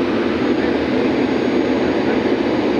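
A loud, steady broadband roar of airplane engines fills the cabin during flight, constant and unbroken throughout.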